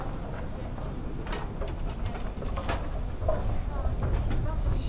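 Ankara metro train running on its rails, a continuous rumbling roar with faint clicks and clatter, heard from inside the carriage, with voices murmuring under it.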